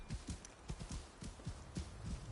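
Horse hooves clip-clop in a quick, even rhythm of soft thuds in the video game Assassin's Creed Shadows, faint and close, with no talk over them.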